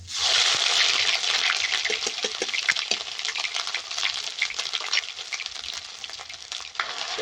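Ginger garlic paste sizzling and frying in a pan, a steady bright hiss with occasional crackles and stirring scrapes, close and fairly loud, no talking.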